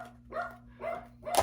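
A puppy barks three times in quick, evenly spaced yips, close and moderately loud, over a steady low electrical hum.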